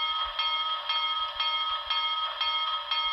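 A model steam locomotive's bell rings in a steady, even rhythm of about two metallic strikes per second, clear and close with nothing else around it.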